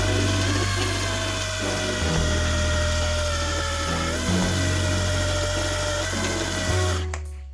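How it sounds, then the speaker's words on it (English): A small pump driven by a power drill whirs steadily, pulling water from the drainage layer of a bioactive insect terrarium through a tube. The motor hum is close and even, broken by a few short dips in speed before it winds down. "a pump actuated by a power drill"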